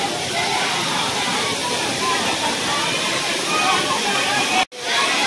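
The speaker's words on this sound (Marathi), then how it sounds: "तर ही आहे ती धबधबा जी एन्जॉय करायसाठी लोक येते तिथे" A waterfall at Ramling, Yedashi in Dharashiv pours in a steady, dense rushing roar close by, with a brief sharp dropout near the end before the roar resumes.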